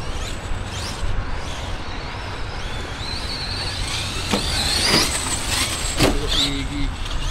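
A radio-controlled MCD RR5 model car body rattles as the car drives on a circuit. A steady motor whine runs throughout, with a few sharp clicks and clatters and no talk.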